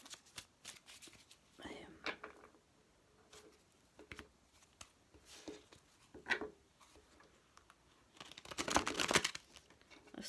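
Tarot cards are shuffled by hand on a wobbly table in quiet, intermittent riffling bursts, with a louder, denser flurry of shuffling near the end.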